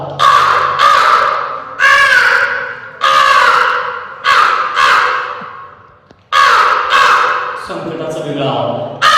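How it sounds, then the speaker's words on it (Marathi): A crow caws repeatedly and loudly close by, harsh calls in a rough series, with a brief pause before a final longer run of caws. "कावळा त्याचा आवाज"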